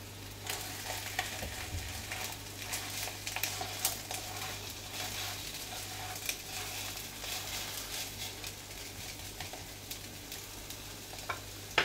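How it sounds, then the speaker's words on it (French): A bulgur galette sizzles steadily in a pan, with a constant crackling fry, scattered sharp pops and a low hum underneath, no voices. "Nous allons laisser cuire entre 3 et 4 minutes de chaque côté."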